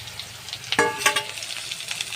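Chopped beans hitting a hot wok in a village kitchen, a short crackling sizzle with a sharp metallic clank and a brief burst of spattering.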